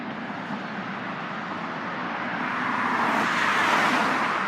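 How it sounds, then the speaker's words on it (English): Steady car traffic near Interstate 95 in Miami forms a dense, continuous roadway roar that swells slightly louder toward the end, with no voices. "So there's a lot of cars around here"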